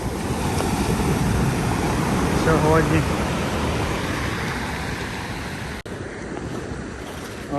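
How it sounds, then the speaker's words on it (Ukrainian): Sea waves on Konyaalti Beach in Turkey after a storm, a continuous broad roar of surf and wind close to the microphone, with a person speaking briefly over it. "Такі хвилі"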